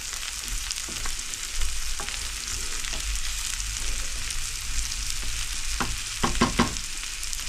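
Jute leaf curry sizzling and frying in a pan, a steady broadband hiss with intermittent stirring clatter and scraping, clustered near the end, close and continuous without talk.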